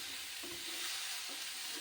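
Bottle gourd pieces fry lightly in oil in a pan, a dense continuous sizzling hiss with faint stirring movements, close and steady, no speech.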